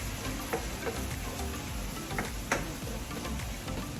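Tomatoes cooking in a pan: a steady, dense sizzle and crackle with small ticking pops, constant and fairly close, with no voices.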